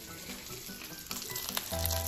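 Sliced sweet bee mushrooms fry in hot oil, giving a quiet, steady sizzle with a few brief crackles and no talking.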